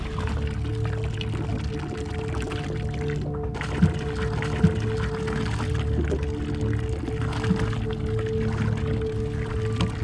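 A hand-operated water maker pumps and gurgles aboard a solo ocean rowing boat crossing the Atlantic. Liquid sloshes and pours steadily under a low hum, with a couple of sharp knocks.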